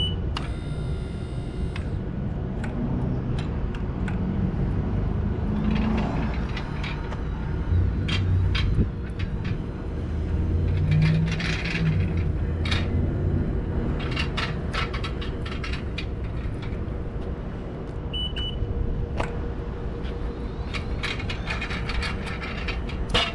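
An EKKO EP18SLi 24V electric pallet jack with a 4,000 lb rating runs steadily up close, with mechanical whirring, ratcheting clicks and a brief electronic beep over a constant motor hum.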